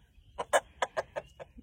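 Several short, sharp clucks from roosters come close together in a quick uneven burst, loud and near, with no talking.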